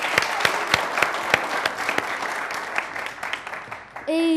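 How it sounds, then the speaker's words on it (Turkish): An audience applauds for a girl about to recite a poem at a televised show, with regular sharp claps and crowd clapping that fade before someone starts talking at the end. "Bir alkış alalım kızımıza."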